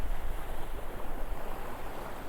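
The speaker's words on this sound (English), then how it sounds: "Let that wave go down." Ocean waves breaking and washing up on a sandy beach, a continuous loud surf roar with rolling swells and some wind buffeting, no voices.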